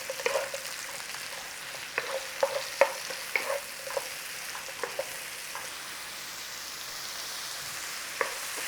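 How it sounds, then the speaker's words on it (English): Mushrooms fry in olive oil and butter in a pan, a soft steady sizzle broken by light scraping stirs and occasional pops. "We are going to toast up our mushrooms."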